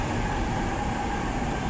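An MRT train runs at Shaw Boulevard station in Mandaluyong, Metro Manila, giving a steady, loud rumbling roar with no break throughout.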